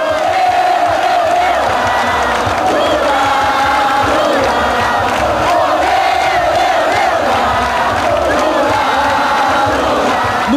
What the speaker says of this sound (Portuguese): No comício, o som da multidão era maior do que o do Maracanã lotado